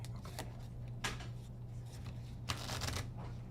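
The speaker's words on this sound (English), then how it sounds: "So we'll shuffle our decks" Card game decks for The Lord of the Rings: The Card Game being shuffled, a steady papery riffling with two louder bursts of cards over a low background hum, with no talking.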